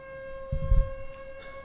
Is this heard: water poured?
no